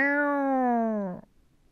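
A puppet character's voice imitates a cat, giving one drawn-out, slightly falling meow that lasts about a second, close and clear, then cuts off into quiet.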